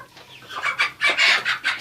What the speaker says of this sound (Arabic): ودي الفراخ طبعا الانواع اللي انا عندي ديت اسمها جميز وفراخ بلدي مشعر